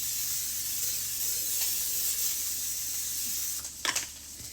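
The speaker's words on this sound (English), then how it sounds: "We're gonna spray it first." A steady, close hiss of cooking spray into a crock pot lasting several seconds, ending with a couple of short clicks and rattles.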